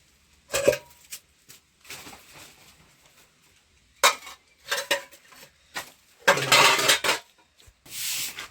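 Pots and dishes are scrubbed and washed in a village setting: intermittent bursts of scraping, rubbing and metallic clatter, close and fairly loud, separated by quiet pauses.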